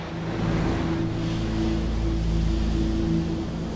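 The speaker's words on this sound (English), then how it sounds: "the rock foundations of the track were being ground away by the waves" Sea waves crash against a coastal railway track along the Dawlish sea wall, where the rock foundations were being ground away. It sounds like a loud, continuous roaring wash of surf and wind, with a low steady hum beneath it.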